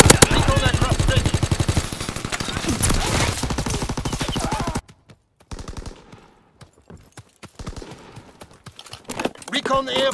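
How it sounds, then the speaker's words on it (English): Rapid, loud bursts of aircraft strafing gunfire rattle through a Call of Duty WWII match for several seconds, then cut off, leaving scattered sharper shots and impacts. "Strafing run inbound."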